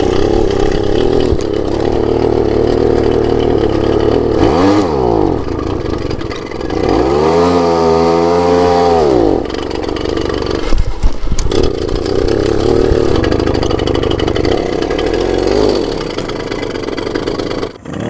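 Karpaty moped engine revving hard and loud up close, its pitch rising and falling in repeated throttle bursts over a steady buzzing drone, without any talk.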